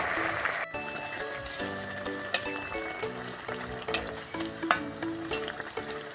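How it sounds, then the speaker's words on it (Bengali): Pea fritters (matar shutir chop) frying in hot oil give a steady hiss and crackle, close and fairly loud, with melodic background music playing throughout. "আমি এবার ছেড়ে দেবো তেলের মধ্যে, আবার একটা ছাড়বো।"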